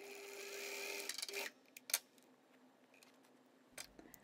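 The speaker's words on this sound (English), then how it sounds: "So the first step is sewing the darts." A sewing machine stitching darts on jumpsuit fabric, a close steady whirring run of about a second and a half, then stopping, followed by a few faint clicks and handling sounds.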